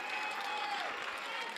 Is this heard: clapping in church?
yes